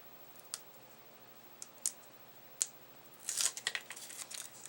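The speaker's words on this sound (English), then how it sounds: "So let's just go ahead and peel off our tape backing" Tape backing is peeled off a card, giving a few sharp isolated clicks followed by a busier run of crinkly tearing and peeling sounds, close and with no talking.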